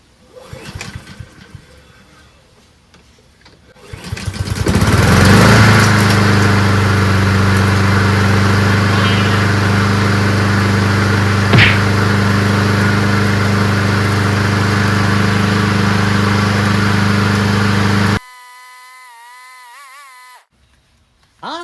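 A Honda lawn mower engine catches after a recoil pull and runs at a loud, steady, close drone for about thirteen seconds before cutting off abruptly. No one speaks.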